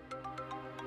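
A phone ringtone plays in a short repeating electronic pattern, a quick chime over a steady tone.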